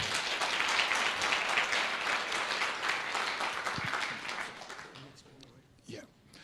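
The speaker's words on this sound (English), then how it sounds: "Another round of applause," Audience applause at a sickle cell community event in the UK: a dense, steady crowd clapping that holds for several seconds, then thins and fades, with a few voices heard near the end.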